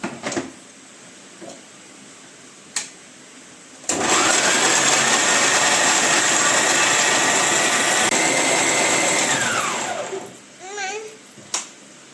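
A kitchen mixer grinder purees tomatoes for a ragi sankati chicken curry gravy. It starts abruptly and runs as a loud, steady whirring whine for about six seconds, then winds down, with light kitchen clatter and brief voices around it.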